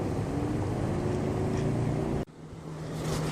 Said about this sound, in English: Never seen so much boat traffic